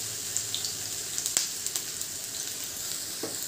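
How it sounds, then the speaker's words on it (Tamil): Poha (aval) snacks shallow frying in oil over low heat, a steady soft hiss of sizzling with a few faint pops and small clinks, close and alone with no talking. "நான் ஷாலோ ஃப்ரை தான் பண்ணுறேன்."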